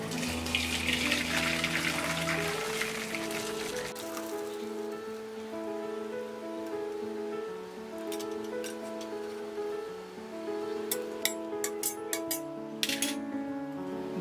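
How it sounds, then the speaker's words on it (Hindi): Water from a pot of boiled sweet corn poured off through a strainer, a steady splashing pour with a brighter spill at the start, running continuously without any talk. "और इस पानी को हम स्ट्रेन कर लेंगे।"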